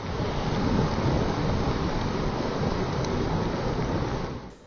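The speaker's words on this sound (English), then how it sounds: "it begins to rain" Rain falls steadily at a frontline area in Manipur, a dense, constant rushing hiss that fills the scene evenly for several seconds before tapering off at the end.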